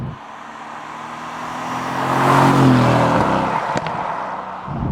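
A 2015 Mercedes-AMG GT S engine revs up and then settles back, a loud, steady rising roar heard from close by with no talk over it.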